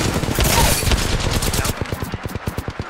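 A Spitfire light machine gun in Apex Legends fires a long, fast, loud automatic stream up close, with the rapid shots then continuing more distinctly.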